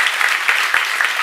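A congregation at a church seminar claps together, a dense burst of applause with loud rhythmic swells, close and sustained across the whole moment, with no talking over it.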